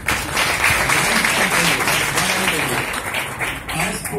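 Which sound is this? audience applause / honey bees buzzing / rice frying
audience applause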